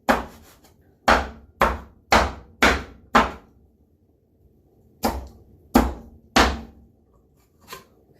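Vegetable pieces for stone soup being chopped on a cutting board: sharp, close knife thunks in an uneven series, five quick strokes, a pause, then four more spaced blows, with no voices.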